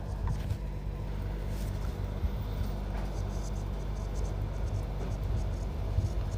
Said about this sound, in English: Let me write it here.